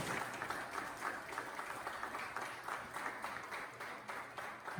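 A church congregation applauds during a Sunday sermon, steady crowd clapping filling the whole stretch at a fairly even level, with no speech over it.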